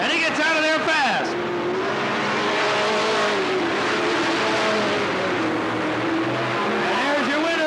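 Race cars roar around the Cottage Grove Speedway oval on the final lap of a 1991 race, a loud continuous engine drone with a car sweeping past early on, under an announcer's voice.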